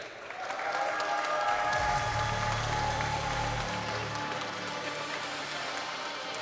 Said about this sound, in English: let's give a round of applause and welcome to the stage